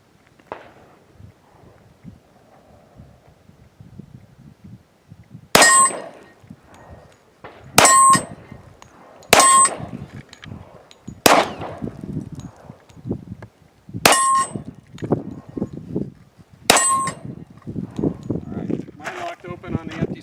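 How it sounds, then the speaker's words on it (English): A Sig P220 Elite 10mm pistol fires HSM 200-grain full metal jacket flat-nose rounds at an outdoor range, 15 yards out. Six sharp, loud shots ring out roughly two seconds apart, with voices talking in between. "here's Steve shooting the HSM 200 grainers"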